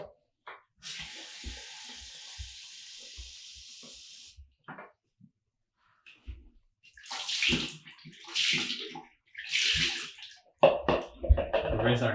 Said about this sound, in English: We fill up a cup with water. We lift it up with our right hand, pass it to the left, and wash 3 times on each hand.